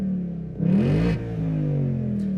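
Ford Mustang Mach 1 with Tremec manual and handling pack, driven hard on a track: its engine drones steadily, then surges in a brief loud rev before settling back to a steady pull.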